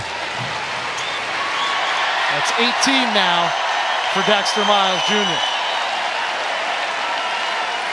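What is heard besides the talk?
home crowd cheering and applauding at basketball game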